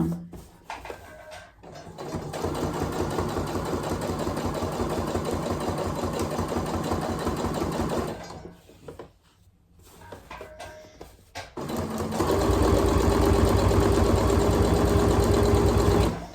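Domestic sewing machine stitching along the lining of a skirt 2 mm from the edge: a steady mechanical whirr runs for several seconds, stops briefly, then resumes louder and continuous with no talking.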